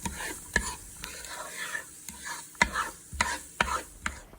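Half a diced yellow onion sizzles softly in a soup pot, with a spoon stirring and scraping in occasional clacks against the pot over a low, steady frying hiss.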